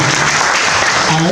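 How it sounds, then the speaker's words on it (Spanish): Audience applause for a guest introduced at a New York section gathering, dense and steady across the whole moment, with a voice faintly audible beneath it. "Con el aplauso de ustedes, presentamos"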